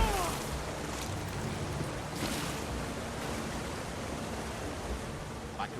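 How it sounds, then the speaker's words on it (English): Steady broadband rush of a waterfall in The Elder Scrolls Online, heard from close by inside a dreary little cave, a continuous dense wash of falling water with brief brighter splashes. "Here, behind the waterfall!"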